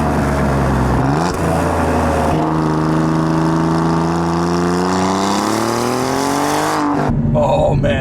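A 2017 Alfa Romeo Giulia Quadrifoglio with its Ferrari-derived engine roars loudly and close. A deep exhaust drone climbs steadily in pitch under hard acceleration, then breaks off abruptly with a shift near the end.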